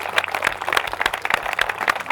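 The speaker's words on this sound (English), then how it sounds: "Let's give them a round of applause here." Crowd at a 2012 diesel truck competition awards ceremony clapping for the first-place team, a steady patter of many hands with sharper individual claps, moderately distant.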